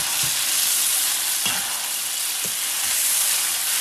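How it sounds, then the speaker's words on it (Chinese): Bean paste and soybean paste stir-fried in hot oil in a wok, a steady close sizzle with a few scraping stirs of the spatula, no talking. "2勺豆瓣酱，2勺黄豆酱，炒香炒出浓油"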